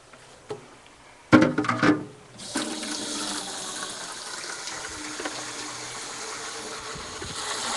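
Water runs from a tap into a container for a mango drink base: a few clanks and a short burst first, then a steady rushing fill that continues to the end.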